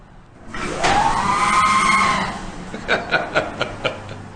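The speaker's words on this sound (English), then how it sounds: "Those of you who are not Star Wars fans are going to see this and think, okay, well, loud sliding door." A loud, drawn-out screech of a sliding door rising and wavering, followed by a few short squeaky bursts.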